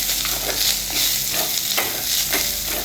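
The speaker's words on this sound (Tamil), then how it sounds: "உடனே சாதத்தை போட்டுருங்க நல்லா கலந்துடலாம்" Rhythmic scraping and stirring over a constant sizzle as rice is mixed with puliyodharai spice powder in a hot pan, close and steady.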